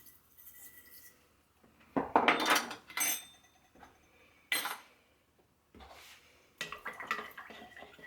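A spoon stirs flax seeds and other multigrain bread ingredients in a bowl, with a few bursts of clinking and scraping against the dish separated by quiet pauses.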